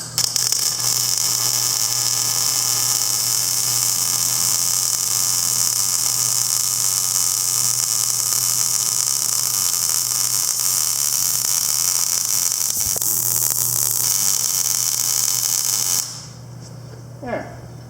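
Steady electric welding buzz on an H&S rake upgrade, a continuous close hiss with mains-like hum running unbroken for about sixteen seconds before cutting off, followed by faint clicks.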